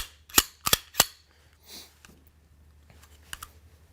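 Handling of a SIG Sauer P320 pistol, heard as three quick, sharp metallic clicks close by as the slide is racked and locked back, followed by quieter handling noises.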